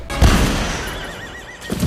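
A galloping Hessian horse neighs loudly with a wavering whinny, and heavy low thuds of movement come at the start and end of the stretch.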